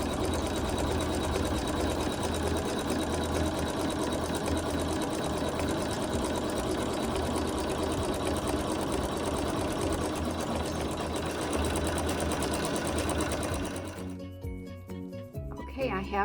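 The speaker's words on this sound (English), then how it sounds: "hold down the wool, keep it in place as it stitches." Embroidery sewing machine stitching down a strip of wool held in place by hand, a steady loud mechanical whir with rapid needle clatter that runs continuously, then stops near the end, leaving quieter clicks.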